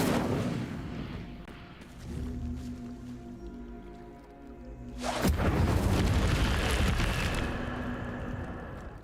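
The Incendio fire spell cast in the video game Hogwarts Legacy bursts out as a sudden whooshing boom, then a sustained roaring, crackling flame that stays loud over a low humming game ambience.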